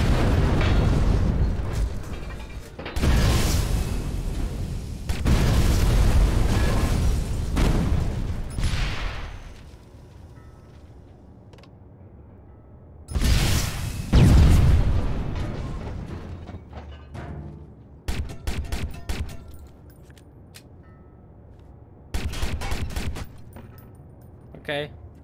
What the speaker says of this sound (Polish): Na banku tu jest strasznie dużo rzeczy, które mogą wybuchnąć